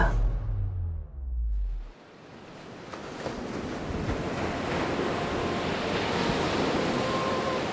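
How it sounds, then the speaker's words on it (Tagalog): Ocean waves wash up onto a sandy shore with a steady, broad rushing surge, mixed with wind buffeting the microphone after a brief low rumble at the start. "tumahimik na rin ang gilid ng dagat habang humahalik ang alon sa buhanginan"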